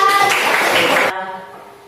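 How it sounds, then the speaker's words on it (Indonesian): Children in a classroom game give a quick burst of hand clapping with voices mixed in. It is loud and close, then cuts off abruptly after about a second. "oke, tepuk tangan"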